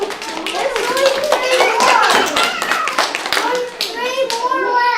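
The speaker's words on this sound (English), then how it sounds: "Give yourself a round of applause." Young children at a library storytime clap in a quick, scattered round of applause close by, with an adult and kids talking over and around the claps.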